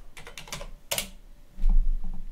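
Brisk typing on a computer keyboard on a Linux machine: a quick run of close key clicks, then a few sparser taps over a low background rumble.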